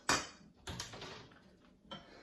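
Spoon scraping seeds out of a cut melon: three short scraping strokes against the flesh, close and fairly quiet, with a soft clatter of utensil and bowl.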